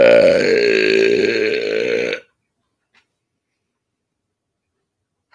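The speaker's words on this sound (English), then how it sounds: "what's your burp fuel tonight?" A loud, long, resonant burp after drinking Diet Coke rumbles close to the microphone for about two seconds and then cuts off into near silence.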